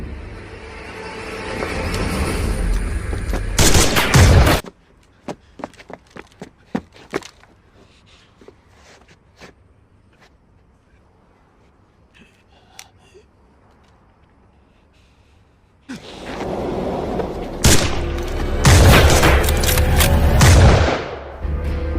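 Sniper gunfire in a film scene: a loud burst of sharp shots and booms at the start, a quiet stretch with scattered faint cracks and clicks, then another loud barrage of heavy gunfire near the end.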